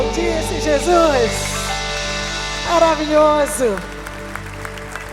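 A church congregation applauds in a broad, steady patter while a voice speaks and sings over it, with the clapping swelling briefly twice.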